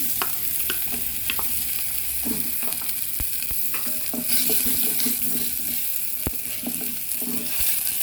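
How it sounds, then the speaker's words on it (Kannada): Chopped onion frying in hot oil with mustard seeds, a steady close sizzle broken by sharp stirring clinks and scrapes of a spoon against the pan, with no talking. "ಈಗ ಈರುಳ್ಳಿ ಎಲ್ಲ ಚೆನ್ನಾಗಿ ಫ್ರೈ ಆಗಿದೆ"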